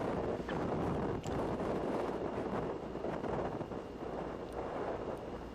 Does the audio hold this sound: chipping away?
no